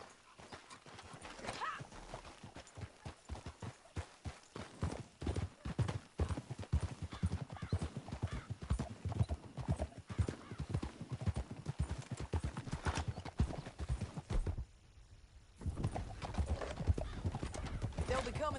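Horse hooves clip-clop in a steady, fast galloping rhythm in a Red Dead Redemption II ride, with occasional whinnies, continuing under a voice and other game sound.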